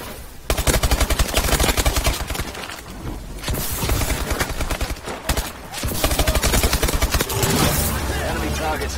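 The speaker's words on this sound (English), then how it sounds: "Gosh, who's shooting me?" Sustained automatic and rapid gunfire from Call of Duty: Advanced Warfare multiplayer, loud bursts nearly continuous across the span, briefly dropping out around the midpoint.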